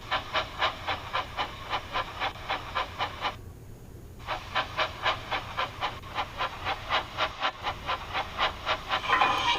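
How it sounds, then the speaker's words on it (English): A steam engine pulling a slow goods train chuffs in a steady, even rhythm of loud hissing exhaust beats, with a brief pause midway before the puffing resumes. "Later, James would take a slow goods train, stopping at every station to pick up and let off trucks"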